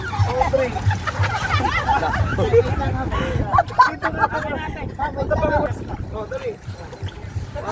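Boat motor droning low under lively overlapping chatter from several people on a boat ride out to coral in Sariaya, Quezon, with occasional water splashes and wind noise.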